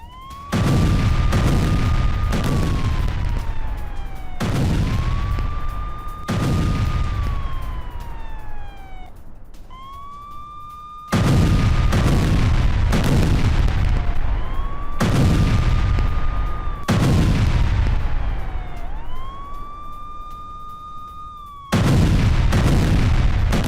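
Loud sirens wail during an Iranian missile attack on Israel, with repeated rising and falling tones that overlap and restart several times. Any explosions are not clearly distinct.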